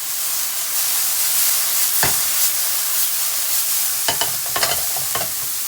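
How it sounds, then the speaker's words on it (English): Onions and carrots fry in a little oil, giving a constant bright sizzle and hiss, broken by a few sharp utensil scrapes and stirs near the end. "So right now I have my onions and carrots cooking here."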